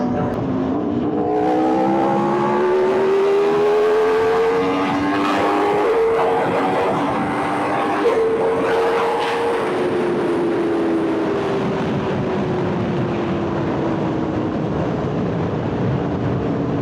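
From inside a rider's helmet, a motorcycle accelerates hard at high speed. Its engine whine climbs through several gear shifts over a constant roar of wind, with no talking.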